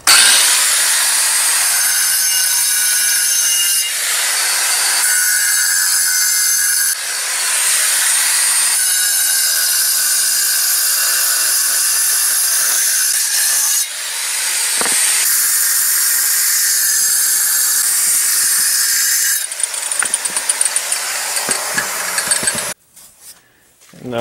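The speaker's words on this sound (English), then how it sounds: "Cutting out my capstones." A saw cuts stone capstones from a large block for a stone pillar, giving a loud, harsh hissing grind in long sustained passes separated by brief changes in pitch, then tailing off into scattered knocks at the end.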